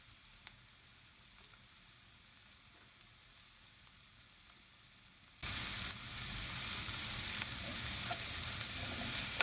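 Onions and garlic frying in a pan over medium heat for baingan bharta, a vegan Indian eggplant dish: quiet at first, then a loud, steady sizzle that starts abruptly partway through and keeps going to the end.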